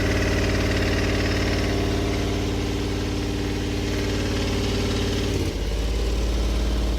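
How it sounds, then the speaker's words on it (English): The range extender in a 2015 BMW i3 REx, a small scooter-type engine, drones at a steady, loud idle with a buzzy vibration, then its tone drops abruptly near the end as the engine load changes. "while driving with the range extender on, it can exacerbate the problem as it's really just a scooter engine"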